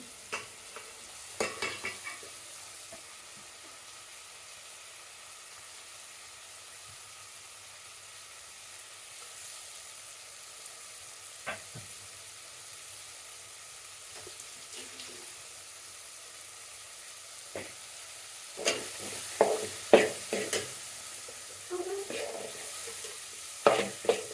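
Grated carrot is stirred in a pan for carrot chitranna: a faint sizzle runs beneath sparse spoon scrapes and taps, which grow busier and louder toward the end.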